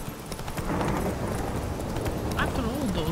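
Roach the horse trotting in The Witcher 3: Wild Hunt, a steady rhythm of hoof clip-clops over in-game ambience, with someone talking over it.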